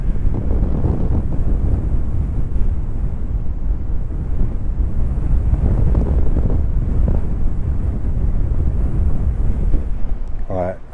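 Strong wind blowing on a UK beach beside a pier, buffeting the microphone in a loud, steady roar for the whole stretch, with no talking.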